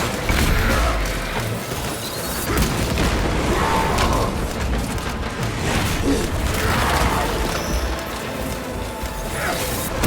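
Grenade blast amid heavy combat in Warhammer 40K Space Marine 2, a dense, loud wash of booms, crashes and gunfire that rolls on steadily with a voice briefly heard in the mix.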